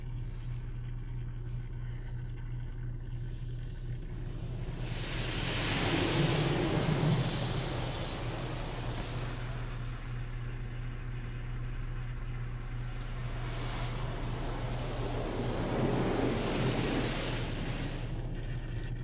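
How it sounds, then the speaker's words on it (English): Automatic car wash spot-free rinse spraying water over a car, a broad hiss that swells in two long waves, heard from inside the vehicle over a steady low hum, no talking. "Just says rinsing, but I would think that was the spot-free rinse."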